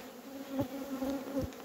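Honeybees buzz at a beehive, a close steady drone with individual bees swelling louder as they pass near, no voices present.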